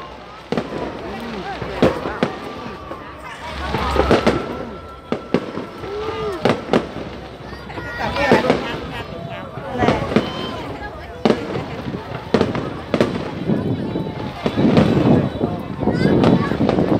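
Fireworks crackle and burst continuously at a Ban flower festival, with sharp bangs scattered through a dense, noisy background.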